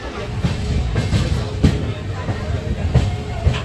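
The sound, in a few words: Kulik Express train running on main line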